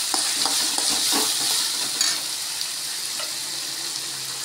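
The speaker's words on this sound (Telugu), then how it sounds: "ఇప్పుడు 3 వేస్తే బాగా ఫ్రై అయిపోతాయి ఎర్రగడ్డలు" Onions sizzle in hot oil in a pan while a utensil stirs them, with a steady bright frying hiss and scattered light scraping clicks, close and alone.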